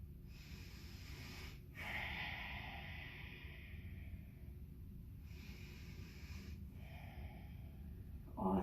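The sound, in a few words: breathing during a yoga pose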